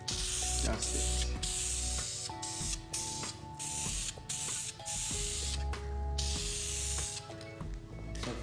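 Black paint hisses from an aerosol can in repeated bursts of varying length onto RB25 engine valve covers, with a person talking between and over the sprays.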